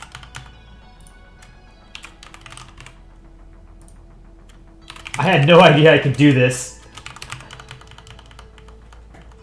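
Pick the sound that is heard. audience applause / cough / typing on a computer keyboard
typing on a computer keyboard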